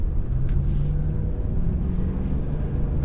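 A Lexus LX470 driving on the street, its low engine rumble and road noise steady and close, heard from inside the truck with no talk.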